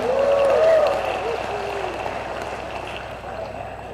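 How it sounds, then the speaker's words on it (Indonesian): A crowd at a university graduation ceremony gives sustained, fairly even applause from a large hall. A voice rises over the clapping at the start, and the applause then continues steadily on its own. "Berikan tepuk tangan untuk kita semua."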